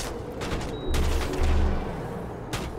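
Rifle gunfire in the Mass Effect video game, a dense burst of overlapping shots with heavy low booms near the start and middle, then a final sharp report near the end, loud and close.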